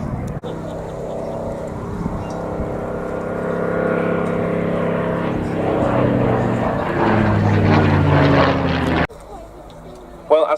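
Loud, sustained droning of piston aircraft engines from a Lancaster bomber and Spitfires making a display pass at an RAF Cosford air show, swelling as they approach and then cutting off abruptly near the end.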